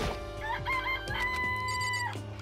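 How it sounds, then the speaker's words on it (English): A chicken in the video game Danganronpa: Trigger Happy Havoc gives a loud, close, rising cluck-and-crow call with sustained tonal squawks, heard alone over a faint game background. "It's a chicken."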